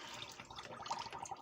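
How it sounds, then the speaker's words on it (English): Water gurgles and trickles steadily, with small splashy drips, like liquid running down a sink drain. "I'm going to drain the water."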